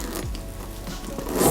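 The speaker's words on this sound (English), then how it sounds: "as long as I can get this zipper" Zipper on a pre-owned luxury handbag dragged open in one continuous, slightly uneven pull, close and clear with no talking.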